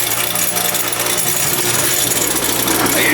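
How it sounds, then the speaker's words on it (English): Bench grinder running unbolted in a workshop while mower blades from an Exmark Radius E-series zero-turn are sharpened, giving a steady, loud, dense whir with grinding texture that holds throughout. "Just turn this bench grinder on."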